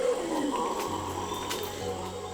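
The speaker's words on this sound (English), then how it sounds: "Red howler monkeys." Red howler monkeys calling in a rainforest: a steady, distant roaring chorus that holds at a moderate level for the whole stretch, with no voices.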